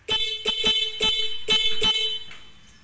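A loud aftermarket horn installed in a car, switched on through a tri-switch, honks in quick bursts, about six blasts in a rapid rhythm, close and piercing, then stops.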